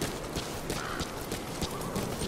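Horse hooves clip-clopping in the video game Metal Gear Solid V, a steady rhythmic trot of thuds under a dense game soundscape, moderately loud with no speech.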